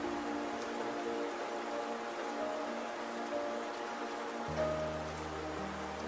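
Steady rain falls continuously, a dense even hiss of drops on a surface, with soft tonal music underneath; no one speaks.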